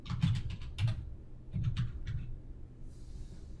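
Someone types a short word on a computer keyboard while renaming a variable in qualitative data analysis software, with two quick clusters of close, crisp key taps separated by a brief pause, then quiet.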